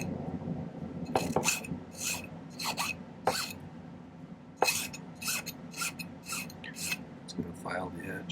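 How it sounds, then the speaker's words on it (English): Metal file smoothing the corners of a silver square ring, bursts of short scraping strokes in irregular clusters, close and fairly quiet. "I think I'm going to start smoothing these corners out a little bit with the file."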